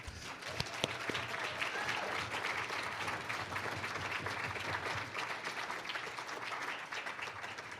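Applause from the audience at a Manitou Springs municipal candidate forum, a continuous, fairly distant roll of many hands clapping that stays even throughout.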